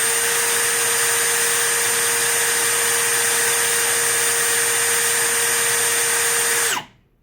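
A Milwaukee FPD3 percussion drill spins freely with a steady, loud, high-pitched whine and hum. It holds an even pitch for nearly seven seconds, then shuts off abruptly and the sound dies away.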